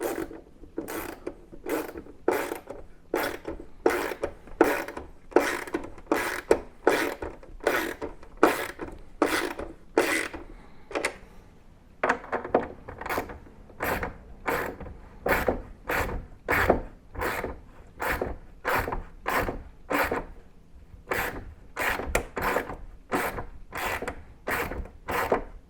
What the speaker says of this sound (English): We're going to tighten these down evenly.